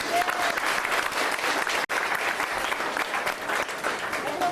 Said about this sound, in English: How about a thunderous round of applause for our volunteers?